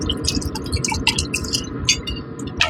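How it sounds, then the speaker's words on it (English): Water pours and splashes into a BBQ pan for ribs, a close, continuous, burbling dribble with scattered drips, with no talk over it. "Okay, so we'll put plenty of water in here."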